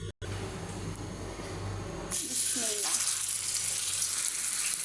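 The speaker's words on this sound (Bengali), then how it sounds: "তেলটা গরম হয়ে গেছে। এখন দিয়ে দেব কাবাবগুলো।" Chicken kebabs dropped into hot oil, a broad loud sizzle that swells up suddenly partway through and then holds steady and close.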